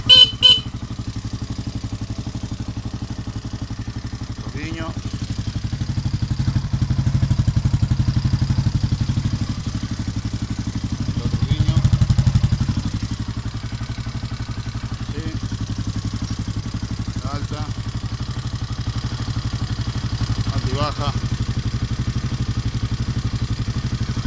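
A Suzuki DR 650 motorcycle engine idles steadily nearby at about 1500 RPM, a continuous low mid-pitched rumble with a couple of brief swells in the revs and faint clatter, no talking over it.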